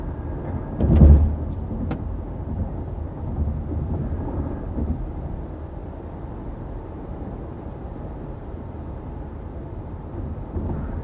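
A car cruising along Interstate 55, with a steady low road and engine rumble throughout and a brief louder thump near the start, no voices.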